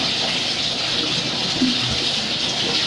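Running bathwater gushes steadily during a cat's bath, a continuous loud rush with faint splashes underneath.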